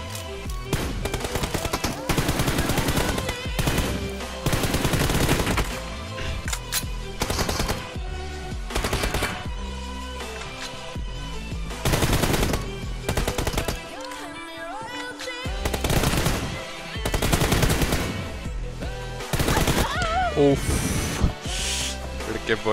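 M416 rifle fire in the mobile game PUBG Mobile, long loud bursts of rapid automatic shots with brief gaps, mixed with excited talking throughout.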